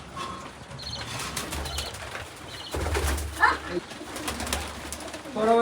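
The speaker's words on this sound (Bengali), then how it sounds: "এই যে কবুতর" Pigeons near a nest with growing chicks, soft throaty cooing mixed with bursts of wing flapping and rustling, close by, with a steady low hum in the background.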